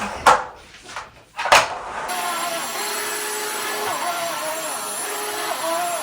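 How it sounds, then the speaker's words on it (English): A household vacuum cleaner runs steadily over a rug, a loud continuous whine with slight shifts in pitch as it is pushed back and forth, following a few sharp handling knocks at the start. "Now I'm gonna vacuum the rest of this rug really quick."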